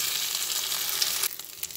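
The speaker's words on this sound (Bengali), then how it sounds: "ভালোভাবে বাটির মধ্যে এধার ওধার করে ডুবিয়ে নিচ্ছি, নিয়ে ফ্রাই করে নিচ্ছি" Batter-dipped pieces for a breakfast dish frying in a pan, heard as a bright, close, steady sizzle that drops somewhat in loudness near the end, with small crackles.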